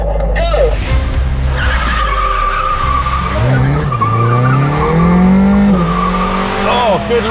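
A new Polo GTI and a 1992 Opel Superboss roar off the drag-race line with squealing tires and revving engines, loud and close, while a person talks over the noise.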